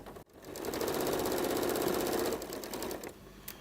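A sewing machine stitches down quilt binding along a pressed crease, a steady rapid mechanical whir with even needle ticks, close and alone, easing off near the end.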